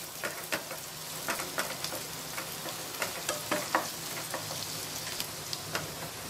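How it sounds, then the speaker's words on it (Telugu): Green chillies fry in a pan for a restaurant-style chicken dish, giving a steady crackling sizzle with sharp pops and spatula scrapes at an even pace, close and clear, with no one talking. "ఫస్ట్ గ్రీన్ చిల్లీస్ వేసుకొని కొద్దిసేపు ఫ్రై చేసుకుందాము చిల్లీస్ని"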